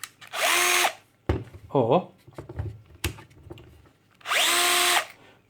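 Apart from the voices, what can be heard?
Bosch GSB 14.4-2-Li cordless drill running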